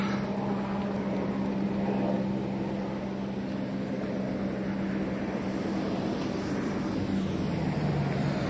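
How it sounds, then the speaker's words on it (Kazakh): A helicopter flies over the Chirchik river area of Bektemir, Tashkent, its engine a steady, continuous drone at moderate distance, with no one talking. "Вертолет ұшып жүр."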